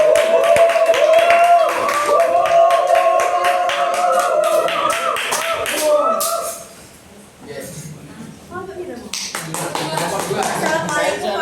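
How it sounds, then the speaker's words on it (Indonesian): A classroom group claps hands in a steady patter of many hands after a presentation, with a voice talking faintly beneath. Then comes a short quiet gap and a second burst of clapping. "Ya, tepuk tangan dulu Mbak."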